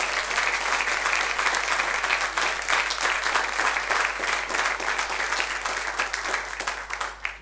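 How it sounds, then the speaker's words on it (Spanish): Congregation applause in a church service, a sustained even roll of many hands clapping at moderate distance, tapering slightly at the very end. "Le damos un aplauso"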